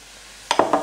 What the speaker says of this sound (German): Das verrühren wir dann mit der Gabel.